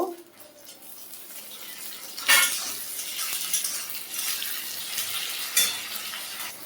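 Tomatoes going into a pan of frying onion, ginger and garlic with cardamom, cinnamon and cumin; clattering utensil knocks and stirring over a steady close sizzle.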